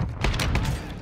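Rapid gunfire bursts in Call of Duty: Modern Warfare II (2022): a quick cluster of sharp, loud shots and booms packed into about a second, with no talk over them.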